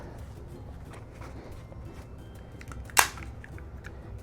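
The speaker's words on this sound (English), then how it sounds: "put a staple right there" A staple gun fires once into upholstery on a stool, a single sharp, close snap that stands out against a faint, steady background.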